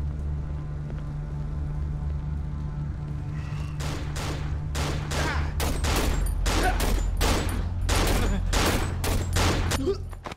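Rapid bursts of gunfire from enemies in the horror video game Cry of Fear, a dense volley of sharp, loud shots starting a few seconds in and repeating steadily over a low droning backdrop.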